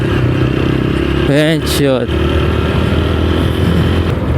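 A TVS Apache RTR 160 4V motorcycle engine roars loudly and steadily, rising in pitch as it accelerates toward 100, with a brief sweeping whine partway through.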